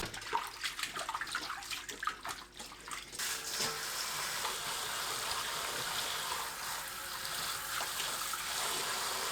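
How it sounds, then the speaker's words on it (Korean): Running water splashes steadily over Korean minari (water dropwort) being rinsed in a kitchen, a close, continuous hiss and patter with some clatter at the start. "물에 헹굽니다."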